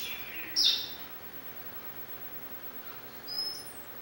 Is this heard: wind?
no